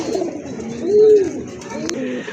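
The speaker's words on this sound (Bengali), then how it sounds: "আরেক জোড়া কবুতর" Domestic fancy pigeons, a fantail-type breed among them, coo close by in a rising and falling call over a low murmur of other birds.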